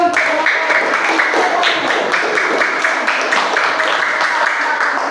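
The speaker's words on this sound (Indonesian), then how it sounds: "Ya, kita kasih tepuk tangan dulu." A classroom of students applauds together, a steady wash of clapping that holds at an even level for several seconds, with faint voices mixed underneath.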